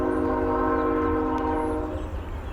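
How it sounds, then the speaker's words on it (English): A Norfolk Southern freight train sounds a loud, sustained multi-note horn close by, the chord holding steady over a heavy low rumble of passing cars, then easing slightly toward the end. "Norfolk Southern train going by."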